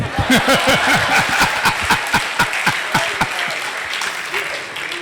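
Audience applause at a Hindi kavi sammelan poetry recital, a broad ripple of clapping with scattered chuckles and laughter running through it, moderately loud and sustained.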